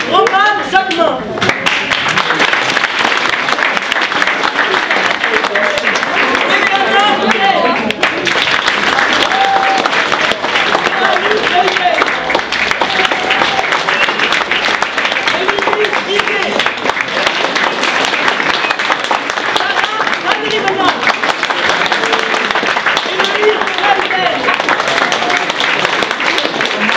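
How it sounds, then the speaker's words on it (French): An audience claps in a sustained, dense round of applause that holds steady for the whole stretch, close and loud, with faint voices mixed into the crowd noise. "Applaudissements."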